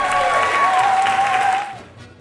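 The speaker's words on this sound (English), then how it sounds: "A round of applause for them." A burst of applause with a bright whistling tone gliding above it, both fading away toward the end.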